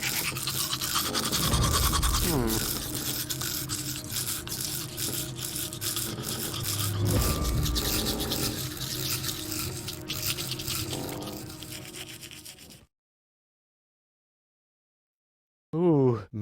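In the video game Goodbye Deponia, teeth are brushed with a toothbrush: a long, close, continuous scrubbing with rhythmic strokes that ends abruptly, then a brief silence and a short tonal sound.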